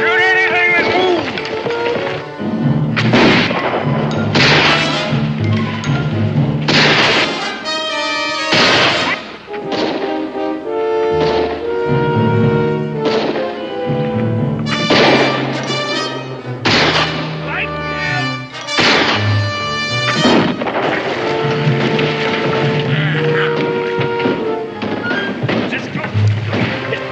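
Gunfire crackles through a frontier battle scene involving Cherokee fighters, with scattered shots and thuds beneath loud orchestral music and shouted voices over about half a minute.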